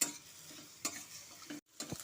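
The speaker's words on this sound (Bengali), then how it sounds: "পেঁয়াজ, রসুন, আদাটা ভালো মতো করে একটু লাল লাল করে ভাজা হওয়া পর্যন্ত ওয়েট করতে হবে।" Chopped onion, garlic cloves and ginger fry in a pan, giving a quiet steady sizzle broken by a few stirring scrapes and clicks of a utensil, with a brief silent gap near the end.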